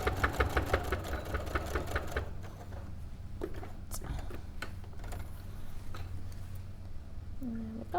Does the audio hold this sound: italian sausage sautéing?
no